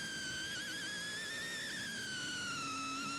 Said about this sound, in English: That whistling is the turbo recharge of Carlos Sainz's car